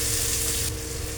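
Chopped onion, ginger and garlic fry in a pan for gobi manchurian, a steady close sizzle that stays loud and even throughout, with no voices.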